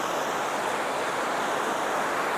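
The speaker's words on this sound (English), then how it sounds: "the way the water rushes through." Water rushing steadily through a canal, a dense continuous broadband roar, close and loud, with no pauses and no voices.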